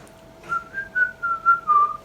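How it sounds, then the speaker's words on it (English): A person whistles a short tune of about six clear rising and falling notes, close and fairly soft, alone without any talk over it. "Can you whistle?"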